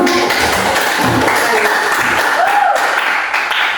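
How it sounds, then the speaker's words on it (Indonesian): A classroom of students claps together during a lesson, a loud, close burst of hand claps that runs throughout with some voices mixed in. "Tepuk tangan dulu."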